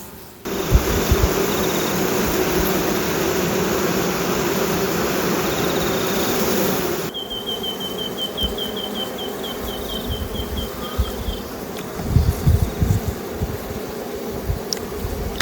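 Bees hum continuously around a beehive in an Australian bee yard, a close, steady buzzing drone with a thin high whine through the first half and some brief rubbing and knocking sounds later on.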